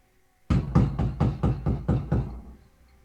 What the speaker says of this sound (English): very aggressive banging on the door